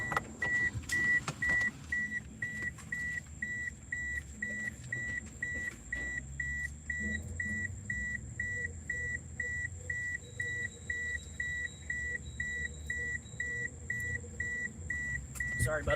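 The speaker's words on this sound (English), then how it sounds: "Sorry about the beeping, hang on." Repeated electronic beeps at a steady rhythm, a bright tone sounding throughout during a livestream stop at a fuel station, over low road and engine rumble.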